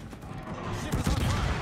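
Rapid anti-aircraft gunfire from the Tier 10 cruiser USS Salem in World of Warships, a dense rattling barrage of overlapping shots that builds louder toward the end, with a voice faintly present.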